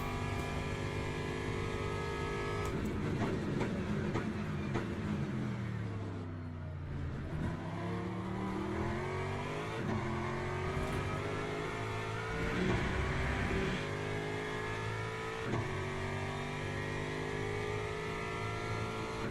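Porsche race car in Le Mans Ultimate, engine droning steadily at high revs with rising and falling pitch through gear changes, a sharp downshift dip near the middle, continuous and close throughout.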